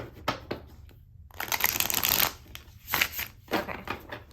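Tarot cards being shuffled by hand during a pick-a-card reading, several close riffling and sliding bursts with brief pauses between them and no talk.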